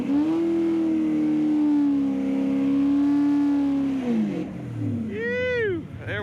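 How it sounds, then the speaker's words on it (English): A Grand Truck with a 454 engine doing a burnout at Paradise Dragway, an uphill eighth-mile drag strip: a loud, sustained droning engine roar that dips, followed by a rising and falling rev. "We got ourselves a burnout."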